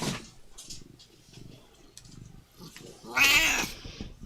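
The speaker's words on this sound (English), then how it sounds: "The melodious tones of a certain" A Siamese cat lets out a loud, drawn-out meow near the end, preceded by quieter low purring and rustling indoors.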